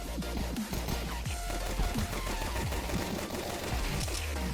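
Rapid bursts of gunfire from the video game Counter-Strike 2 during a competitive match, dense overlapping shots and impacts running continuously and loud throughout, with no talk.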